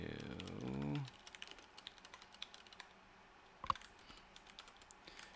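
Typing on a computer keyboard while entering code, with a steady run of soft, close key clicks after a brief opening noise, one louder keystroke standing out midway.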